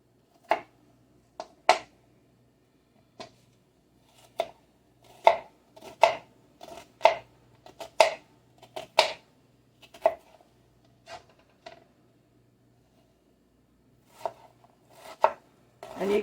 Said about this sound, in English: I found that is absolutely the easiest way to chop onion, leaving the root end on.